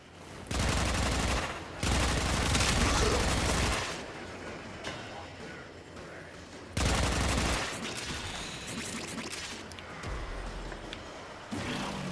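Gunfire in Warframe, sustained bursts of heavy automatic fire in two long stretches with quieter rumbling and battle noise between them, loud and close, with no talking.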